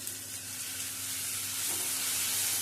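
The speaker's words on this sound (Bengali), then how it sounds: "এটি দিয়েও নেড়ে চেড়ে নেব আদা রসুনের কাঁচা গন্ধটা চলে যাওয়া পর্যন্ত" Ginger, garlic and dried chili paste sizzling in a pan as it is stirred, a steady close frying hiss that grows slightly louder toward the end, with no voices.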